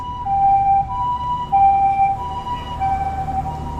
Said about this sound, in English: Yep, ambulance.